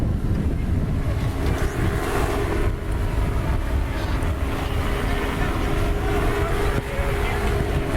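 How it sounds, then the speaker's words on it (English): Strong wind buffets the microphone during a boat race on open water, a loud continuous roaring rumble with gusty swells and no pause. "A lot of wind out here right now."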